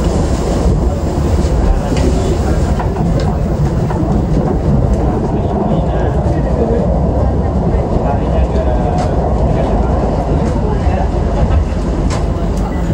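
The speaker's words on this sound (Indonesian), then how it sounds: "kereta api Argo Dwi Pangga akan segera melintas langsung stasiun Kebumen" Argo Dwipangga express train passing straight through Kebumen station on a rainy day, a loud, dense rumble of wheels on rails that holds steady for the whole stretch.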